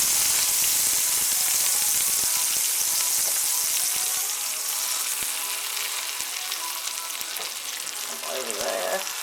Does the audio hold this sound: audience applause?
no